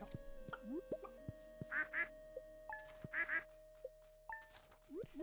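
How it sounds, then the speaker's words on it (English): Cartoonish duck quacks from a video game pop out in short bursts, with one double quack and then another, amid electronic blips and sliding game tones. "How happy the ducks are."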